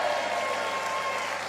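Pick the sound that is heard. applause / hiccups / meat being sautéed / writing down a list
applause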